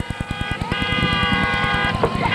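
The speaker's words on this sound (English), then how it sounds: "drivers are very excited as they're tooting the horns and ready to go" Race car drivers toot their horns at the start of a fall enduro at Kings Park Speedway, a steady, loud horn blare with overlapping tones, layered over a rapid, regular pulsing of idling engines close by.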